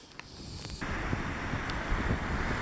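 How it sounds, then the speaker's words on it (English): Strong gusty wind in wet weather buffets the microphone, a steady rough roar that swells abruptly after a brief quieter moment. "It's wet, it's windy."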